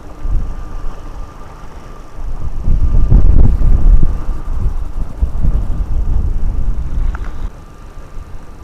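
Gusty wind buffeting the microphone outdoors by the River Humber at night, rising and falling in loud rumbling bursts without talk.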